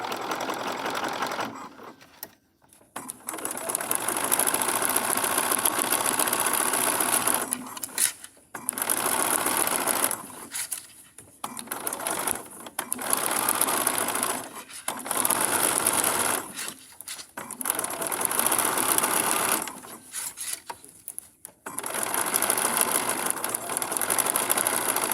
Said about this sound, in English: I'm stitching in the ditch as best I can.